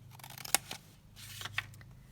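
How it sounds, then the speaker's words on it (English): Scissors trimming paper ephemera for a skinny craft folio: a few quiet, close snips and crisp cuts, with one sharper snip near the start, over soft background hum. "let's just trim that down like that"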